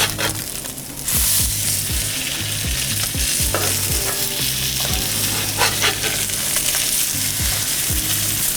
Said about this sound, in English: let's flip this over